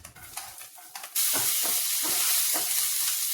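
Minced garlic and ginger drop into hot refined oil, bursting into a loud, steady sizzle that fills the rest of the short stretch, with a little stirring texture and no talk.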